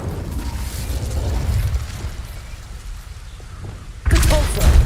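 Magic spells cast in Hogwarts Legacy, an ice spell and a fire spell, rumbling and whooshing as a low bursting wash that swells loudly near the end, with no talk.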